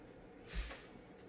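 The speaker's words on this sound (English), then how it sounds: "Take a big sniff." A person takes one big, quick sniff through the nose during a smell-guessing game, a short breathy burst heard once, close and alone.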